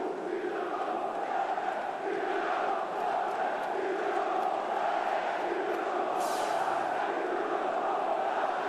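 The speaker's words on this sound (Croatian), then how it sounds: "glasni su fanovi Dinama. Dinamo Zagreb ori se sada Salzburškom arenom" Dinamo Zagreb supporters chant as a dense, steady crowd roar across a stadium in Salzburg during a Champions League match against Salzburg, sustained and far-off, with no clear breaks over the whole stretch.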